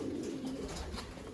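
A pigeon fancier's loft birds, including a crested female sitting on eggs, give soft low coos close by, a continuous throaty murmur with no talking.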